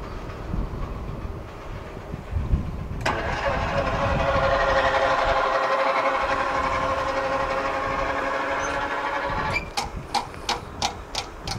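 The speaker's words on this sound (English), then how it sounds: "The first train here is the CSX M560." A CSX M560 freight train with locomotives and a distributed power unit at the rear rolls past up close, a loud rumbling roar building as the engines pass, then a rhythmic clickety-clack of wagon wheels over rail joints near the end.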